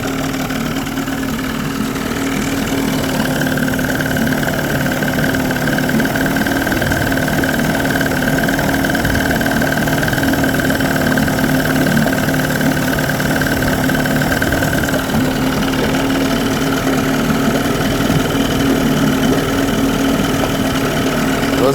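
A 1993 Evinrude 30hp short-shaft two-stroke outboard runs in slow mode while water streams off it, a loud, close, steady idle drone with rough low rumble and a sustained tonal whine, continuous throughout.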